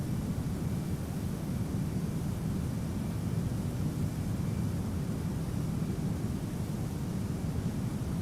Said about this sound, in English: Afterburners are still on.